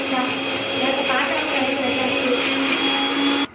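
A kitchen mixer grinder grinding ginger and garlic whirs loudly and steadily with a high motor whine, running continuously before cutting off abruptly at the end.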